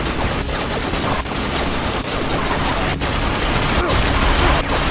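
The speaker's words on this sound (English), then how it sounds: "Get out in front of that machine gun!" Machine gun fire in the video game Binary Domain, a dense, unbroken clatter of shots with occasional sharper cracks, loud and constant for five seconds with no voices.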